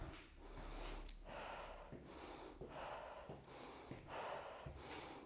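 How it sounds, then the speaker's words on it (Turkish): Slow, deep breaths taken in through the nose and out through the mouth during a walk, close and soft in a repeating rhythm of several cycles. "Burundan alıp ağızdan veriyorum."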